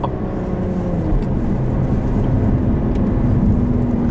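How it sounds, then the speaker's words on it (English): A 2021 Lotus Evora GT engine under load, a loud, steady in-cabin drone with rising and falling harmonics as the revs shift through heel-toe downshifts, heard alone without talk. "Responsiveness on downshifts for heel towing."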